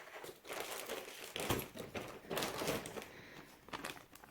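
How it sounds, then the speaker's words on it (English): A plastic Ziploc bag from a 2018 Australian military ration pack, Menu C, is handled, giving several seconds of close, irregular crinkling and rustling with sharper crackles. "Plastic bag with a Ziploc here"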